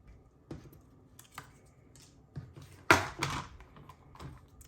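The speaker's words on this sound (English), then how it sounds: "Just grab my paper trimmer." A paper trimmer cuts a thin strip from cardstock, heard as a few soft taps and clicks followed by a sharper, louder slicing swipe near the middle and quieter clicks afterward.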